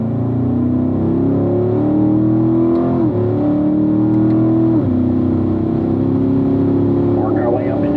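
A Corvette engine on a racing circuit, heard from inside the car, droning loudly and climbing in pitch as it accelerates, with two brief dips at gear changes before it pulls steadily again.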